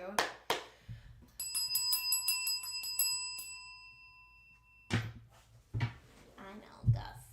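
A small bell is struck during a live tarot reading, giving a quick cluster of bright ringing strikes that sustain and fade, among handling knocks and people talking.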